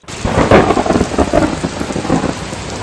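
A loud, close thunderstorm with heavy rain pounds a surface outside, with a steady hiss of rainfall and low rumbling thunder and no voices.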